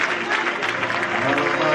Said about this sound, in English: Everybody clap your hands and tell them thank you, Jesus.